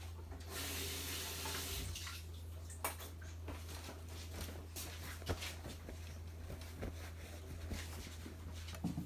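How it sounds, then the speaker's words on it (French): Water runs steadily from a kitchen tap into a sink as hands are washed after melting chocolate for a moist chocolate cake. The flow is soft and continuous, with occasional light splashes and knocks. "Alors, on va se nettoyer les mains."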